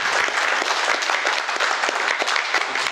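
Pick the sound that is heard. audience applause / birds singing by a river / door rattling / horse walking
audience applause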